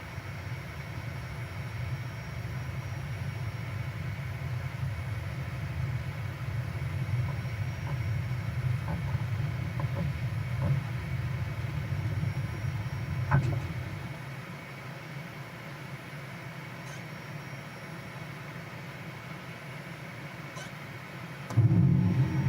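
Bleriot plane engine at full throttle in Microsoft Flight Simulator, a steady low droning rumble with a broad whooshing hiss, constant and fairly loud, then briefly easing and shifting in tone near the end.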